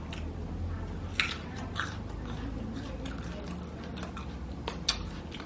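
Fresh date fruit being bitten and chewed near the mouth: soft, moist squishy chewing with a few sharper bite clicks, steady and fairly quiet, with faint talk in the background.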